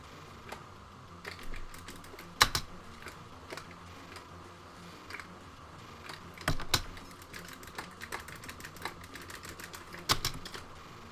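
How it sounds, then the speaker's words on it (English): Amiga computer keyboard typed hard, with the space bar smacked forcefully: steady close clatter of keystrokes broken by several loud, sharp bangs, heard alone. "My poor Amiga keyboard is just getting whacked at the moment with me just smacking that space bar so hard."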